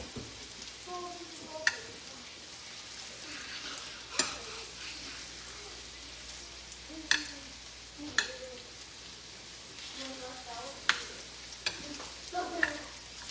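Turkey meatballs fry in a pan as they are rolled around, a quiet, steady sizzle broken by sharp utensil clicks every second or two.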